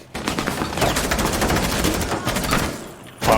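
Rapid bursts of gunfire from a Rainbow Six Siege match, with the high-recoil SMG-11 in play, fire continuously at close range and stay loud throughout, with a brief break near the end.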